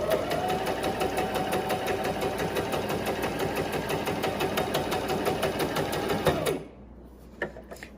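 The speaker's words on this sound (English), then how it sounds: "Now your machine is locked and ready to stitch." A Brother XM3700 free arm sewing machine stitches at a fast, even mechanical rattle, close and loud, running steadily for about six and a half seconds before stopping, followed by a few faint clicks.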